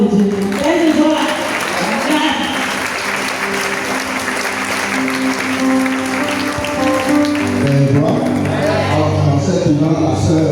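A church congregation breaks into sustained applause lasting about ten seconds, dense clapping with a voice and some musical tones mixed in near the end.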